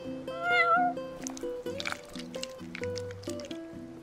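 A kitten gives one short, high meow near the start in Final Fantasy XV, heard over gentle stepped background music with soft wet squishing sounds.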